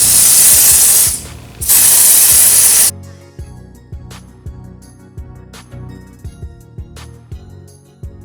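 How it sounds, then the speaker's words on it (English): A can of aerosol foundation sprays in two loud hissing bursts close by onto a face, followed by soft tapping and dabbing sounds of a Beauty Blender. "Spray this like directly on my face"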